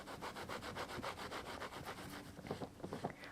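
Rhythmic back-and-forth rubbing as a stencil is wiped clean with rubbing alcohol from a mister bottle, fast close scrubbing strokes that turn a little looser and more scattered toward the end.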